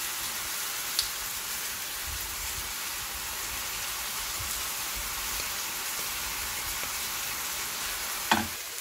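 Steady, even sizzle of garlic sautéing in a pan, a bright hissing bed with a couple of light utensil taps, close and continuous with no voices.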